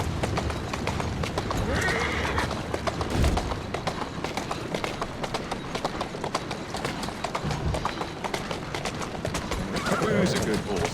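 Rhythmic clip-clop of galloping hooves with repeated horse whinnies, steady and close, over a busy game soundscape in Assassin's Creed Syndicate.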